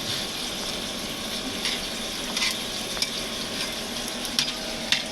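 Potatoes fry crisply in hot oil with a steady, close sizzle, and a few sharp crackles and spatters pop out near the end.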